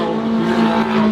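A prototype car engine revs at low rpm with a steady, throaty drone, holding a constant pitch up close for about a second.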